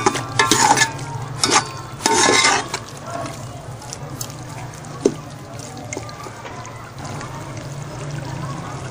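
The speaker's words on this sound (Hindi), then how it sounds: "इसको अच्छे तरीके से ज़रा मिक्स कर लेते हैं" Fresh cream being stirred into a beef white karahi, with scraping spoon strokes and a soft sizzle of the pan continuing underneath, louder in the first few seconds.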